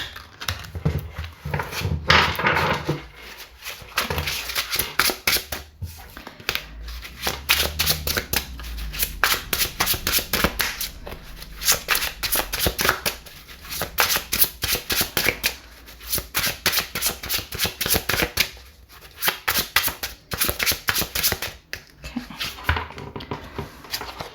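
Tarot cards being shuffled by hand, a steady run of crisp riffling and flicking bursts that repeats through the whole stretch, close and fairly loud with no talk.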